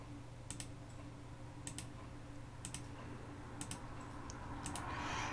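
A computer mouse clicks while someone models in Blender: sharp paired clicks repeat about every second over a steady low room hum, with no talking.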